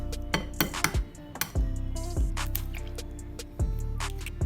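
Whisk clinking against a bowl while stirring chocolate chip cookie dough for Nutella-stuffed cookies, a series of close, sharp metallic taps in an uneven rhythm.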